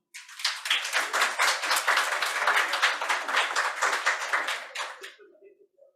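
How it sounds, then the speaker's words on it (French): Applause from an audience at a public talk event in Sherbrooke, a dense burst of clapping lasting several seconds before thinning out and fading. "Donc, bonne main d'applaudissement."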